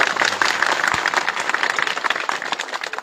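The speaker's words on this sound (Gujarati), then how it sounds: "ગોપાલભાઈ ઇટાલિયાને આપણે જોરદાર તાળીઓના નાદથી" Sustained crowd applause at a village thank-you rally in Rajpara, Visavadar, greeting Gopal Italia, a dense steady wash of many hands clapping close and loud throughout without a break.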